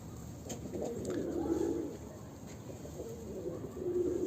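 Breeding pigeons in a coop give soft, repeated low coos, with gentle rustling and faint background noise around them.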